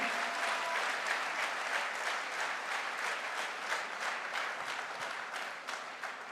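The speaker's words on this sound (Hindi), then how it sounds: "अरे बड़ी ठंडी ठंडी सी तालियां बज रही है यार।" Sustained crowd applause at a Goa direct-selling promotion event, dense and steady clapping from a large audience throughout, without pause or voices.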